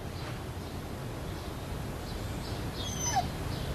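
A dog whimpers faintly in a few thin, wavering high whines near the end, over a steady background hiss.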